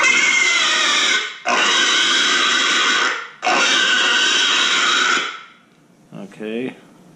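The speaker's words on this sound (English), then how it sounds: "There's a pig adult distress." Adult pig distress call from a Flextone Vengeance 50 electronic game call, three long loud squealing bursts separated by brief gaps, followed by a short quieter grunting sound.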